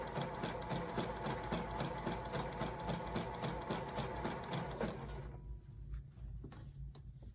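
A sewing machine stitches a hem on underwear with a steady, fast mechanical whir and tick, close and even, then stops abruptly, leaving faint clicks and handling noise.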